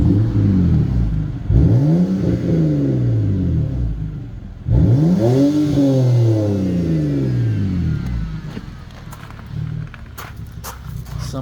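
A BMW N52 engine from a junk car, with its muffler and secondary catalytic converters deleted, revs twice from idle in rising, raspy roars that fall back, then idles loudly and roughly nearby.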